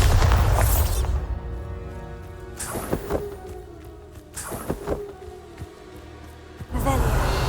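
Bombarda blasting spell explosions in the video game Hogwarts Legacy: several sharp booming blasts and crashing bursts land in quick succession, loud and close, with quieter game ambience between the hits.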